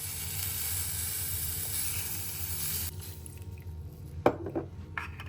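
Water poured into a hot pan of garlic for meatballs in broth sizzles loudly at first, then the hiss drops away, followed by a few light clinks of a utensil.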